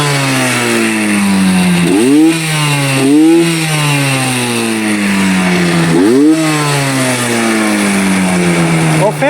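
A Cagiva Roadster 125 motorcycle engine, warmed up, idles loudly and close, then is blipped through several sharp revs that rise and fall in pitch, with no talking over it.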